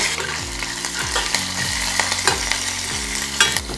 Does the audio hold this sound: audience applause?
no